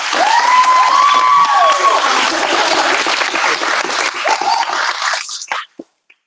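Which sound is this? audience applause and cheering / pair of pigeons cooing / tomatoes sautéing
audience applause and cheering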